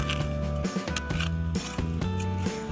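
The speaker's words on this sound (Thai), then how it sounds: "ต้องใช้จอบมาขุดลึกกว่าเดิมค่ะ" Repeated scraping, crunching strikes of a hoe chopping into hard-packed snow, close up, in an uneven rhythm of several blows.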